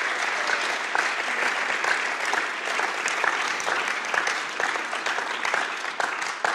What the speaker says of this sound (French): Wir wollen ihn begrüßen mit einem Applaus